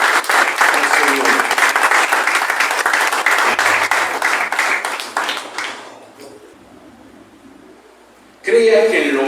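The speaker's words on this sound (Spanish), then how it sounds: "¿Por qué no le regala un fuerte aplauso" A church congregation gives loud, dense applause during a sermon, sustained for several seconds before fading away, then a sudden return of loud sound near the end.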